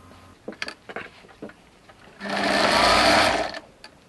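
Sewing machine stitching patchwork fabric scraps face to face for a remnant rug, one steady whirring run of about a second and a half, close and loud, after some soft handling noises.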